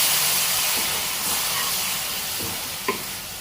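Burfi mixture with beetroot juice being stirred in a hot pan, a steady hissing sizzle with soft scrapes of the spoon and one brief clink toward the end.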